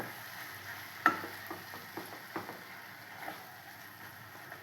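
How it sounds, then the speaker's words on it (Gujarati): Boiled potatoes are stirred into spiced masala in a pan for samosa filling, with soft spatula scrapes and taps coming every half second or so over a faint, low sizzle and no speech. "બટેટાને પણ મસાલામાં સરખી રીતે મિક્સ કરી લેવાનું છે"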